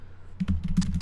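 Quick, uneven clatter of fingers typing on a computer keyboard, close and fairly quiet, a short burst of keystrokes following a brief pause.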